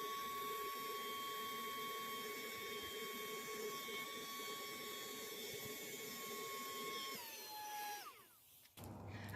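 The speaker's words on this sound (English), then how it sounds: "It's working, and this vacuum is pretty powerful too." A Saker mini portable 3-in-1 handheld vacuum cleaner running with a steady high-pitched motor whine, used to deflate a pool inflatable; the pitch drops near the end as the motor strains, then it cuts off abruptly.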